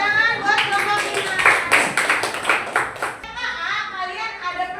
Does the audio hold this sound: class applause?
yes